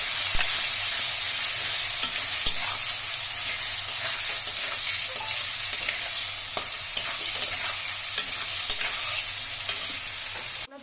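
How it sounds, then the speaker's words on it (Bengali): Onions softening in oil in a pan, sizzling steadily and loudly throughout with frequent scrapes and clicks of a spatula stirring, close up and with no voices. "পেঁয়াজটা ভালোভাবে নরম করে ভেজে নেবো"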